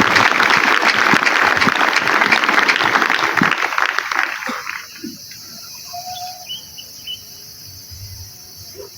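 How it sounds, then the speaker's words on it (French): A church congregation applauds loudly at an evangelisation campaign, a dense roar of clapping for about four and a half seconds that then drops away, leaving crickets chirping and faint outdoor sounds. "Acclamons très fort pour le roi des rois."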